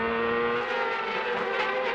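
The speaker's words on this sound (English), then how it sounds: "You ride with Gilles de Ferran off of turn number 8, up through the gearbox, revving that Honda turbocharged" A 1998 CART Honda turbocharged 2.65-liter V8 race car revs steadily at high pitch on the Cleveland circuit, a loud sustained engine drone with no talking.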